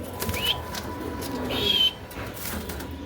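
A white male Bukhara pigeon coos softly amid light background noise, with low, faint murmuring calls and a few small rustles.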